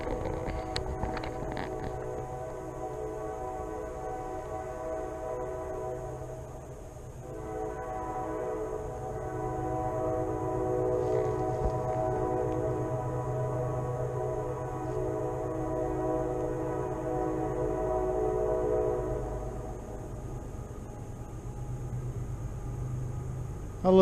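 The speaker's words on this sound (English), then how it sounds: "I love the sound of that train" A freight or passenger train sounds its horn for a road crossing about a mile away, a long, steady multi-tone blast with a brief break, rolling on under distant rain ambience.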